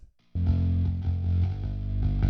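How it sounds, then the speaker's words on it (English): A thick, gritty bass guitar line played through a regular guitar amp with metal distortion, crunchy low notes sustaining after a brief silence. "I took a copy of the bass guitar and ran it through a regular guitar amp with a sort of like a metal distortion"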